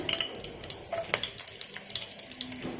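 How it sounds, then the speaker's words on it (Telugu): Green chillies and curry leaves frying in hot oil for a village-style drumstick chicken curry, giving a steady close crackle and sizzle with small pops and spatters, no voices. "4 పచ్చిమిర్చి చీలికలు వేసుకున్నాను. ఇవి కూడా వేగే కదండి"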